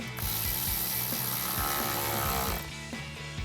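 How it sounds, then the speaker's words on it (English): Ratchet with an 8mm socket tightening a hose clamp on a cold air intake filter for a RAM 1500, a rapid continuous clicking up close for about two and a half seconds, then a few slower clicks. "8mm socket and tighten down our clamp on our filter"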